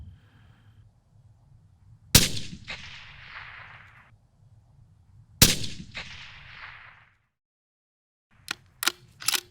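Two loud rifle shots from a .243 Winchester Savage fired at a 300-yard target, each a sharp crack followed by a rolling echo, then a few quicker, fainter cracks near the end.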